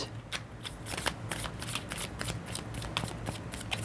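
A deck of tarot cards being shuffled by hand, a close, continuous riffling flutter of soft card slaps in quick irregular bursts, no talking.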